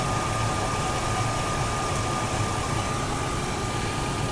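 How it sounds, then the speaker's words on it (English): A car engine with fuel injectors idles smoothly and evenly, a continuous low rumble with a faint steady whine, close by and without interruption. "The engine sounds nice up here too. It's got a nice smooth run to it."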